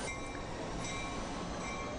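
A freight train loaded with hay for drought relief rumbles on steadily, a continuous rail roar with faint wheel squeal, no voices.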